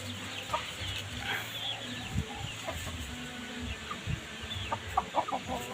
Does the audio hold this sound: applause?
no